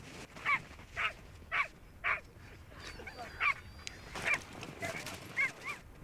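An injured sled dog with a paw cut on ice gives a series of short, high whimpers and yips at a steady pulse, fairly close over a soft outdoor background.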